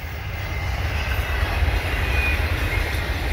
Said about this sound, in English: we got this last train coming behind